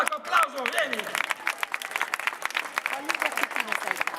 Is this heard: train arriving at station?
no